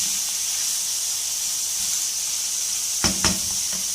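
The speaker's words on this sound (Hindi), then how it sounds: "वेजिटेबल्स को फ्राई करेंगे।" Vegetables frying in a pan over a constant, hissing sizzle, with two quick clanks of a utensil near the end.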